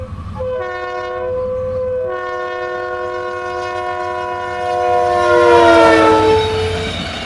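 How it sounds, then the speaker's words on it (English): Passenger train of 17 coaches hauled by locomotive 949 and SD70AH 9010 sounds a loud multi-tone horn in two long blasts, the second swelling louder as the train nears, with rail rumble underneath. "949, along with SD70AH number 9010, and a line of 17 passenger coaches"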